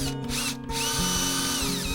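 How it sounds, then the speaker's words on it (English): A cordless drill whirs steadily into a piece of wood held tight in a vise, loud and close, with a brief dip in pitch early on before the motor settles into a sustained drilling whine. "Take your cordless drill"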